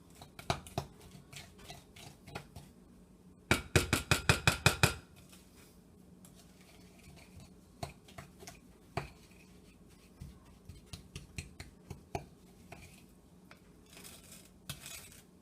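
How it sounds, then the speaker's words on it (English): A spoon stirring and scraping white sugar into butter in a bowl, with a quick run of sharp clinks against the bowl followed by scattered taps and scrapes, fairly quiet and with no talking. "now I'm going to mix some of the white sugar"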